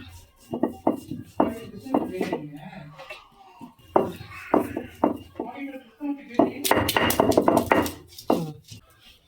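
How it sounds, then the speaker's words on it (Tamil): Cumin and garlic pounded on an ammi grinding stone, a series of sharp knocks in uneven bursts, close and fairly loud, with a dense flurry of strikes near the end and a voice talking between them. "இதை நான் அம்மியில் வச்சு நான் இடிக்கிறேன், அதை அரைக்கிறேன்."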